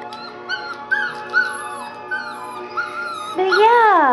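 Goldendoodle puppies whimpering and yipping close by in a string of high, wavering whines and short yips, ending in a longer rising howl-like cry.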